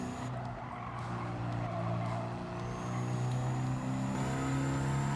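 Loud interior drone of a Unimog truck engine in Gran Turismo 7, a steady low rumble with rising harmonic tones as it revs, continuous and close throughout.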